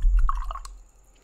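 A paintbrush dabbles in water to mix paint, giving a short wet swish and squelch up close. It fades out within about a second.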